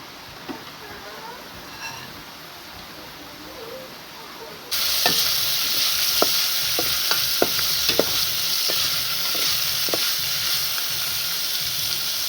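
Porcupine meat stir-frying in vegetable oil, a loud steady sizzle that jumps up partway through with sharp scraping clicks from stirring, over quieter earlier frying.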